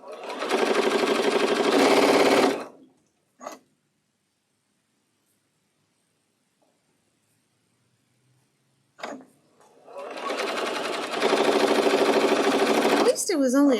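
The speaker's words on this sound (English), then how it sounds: "Looks like you're stitching." A sewing machine stitches quilt block pieces in two loud, fast-running bursts, close to the mic, separated by a long silence with a couple of brief clicks between.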